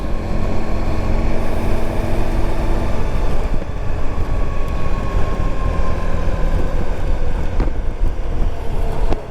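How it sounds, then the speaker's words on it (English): Steady, loud wind rumble buffets the microphone throughout a motorcycle ride, a broad continuous roar with low-end gusting and no voices. "It's very windy."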